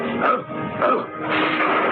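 A dog barks twice, loud and close, amid a dramatized Hindi story scene of it breaking down a door, with voices and background sound mixed in underneath.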